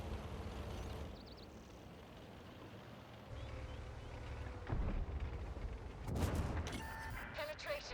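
Enemy shell penetrating the player's 56TP tank in a tank battle video game, a loud blunt impact and rumbling crash breaking through steady engine drone, followed by short tonal alert sounds.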